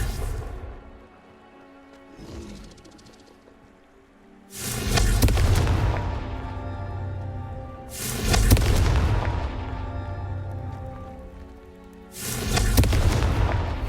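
A Confringo fire spell exploding in Hogwarts Legacy: three loud, deep booms a few seconds apart, each bursting suddenly and decaying into a rumbling tail, with quieter game sounds between them.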